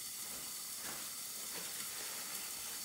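Beef sizzles in a pan over a medium burner for lemon beef, a continuous soft frying hiss, quiet and steady throughout with no voices.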